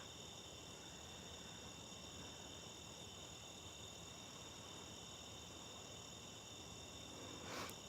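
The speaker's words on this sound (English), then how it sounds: "nothing but crickets and tree frogs" Continuous shrill chirring of crickets and tree frogs fills the night air, a constant outdoor drone with a brief soft rush near the end.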